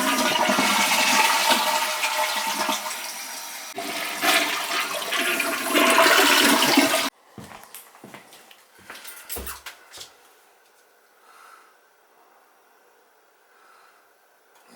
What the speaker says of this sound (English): Give it a couple of flushes.